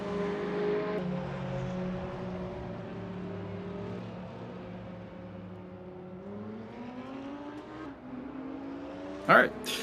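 Mid-engine race cars in the RaceRoom racing game at Motegi East drone continuously, their engine pitch sliding up and down as they rev and shift, with a short sharp burst near the end.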